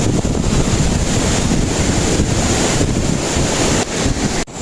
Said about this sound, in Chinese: 刮大风了。